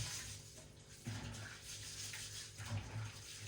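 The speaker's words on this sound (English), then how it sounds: "So wash your rice well." Rice is washed in water for a moong dal khichdi, a soft, steady swishing and sloshing close by that stays quiet and continuous, with no talking.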